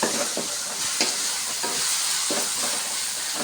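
Mixed vegetables for mushroom fried rice sautéing in a hot pan after a little salt is added, a steady crackling sizzle with periodic scraping stirs, close and fairly loud, no voices.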